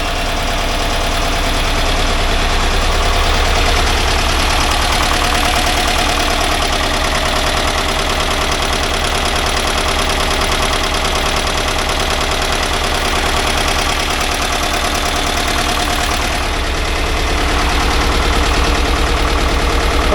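A 1982 air-cooled VW Vanagon Westfalia engine idles steadily and loudly up close, a continuous rough, chattering mechanical drone that holds nearly unchanged for about twenty seconds.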